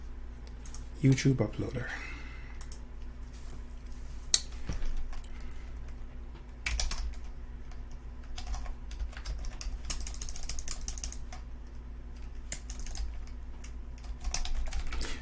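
Rapid clicking of computer keyboard typing runs throughout at moderate level, with a person speaking at the start and quiet background hum underneath.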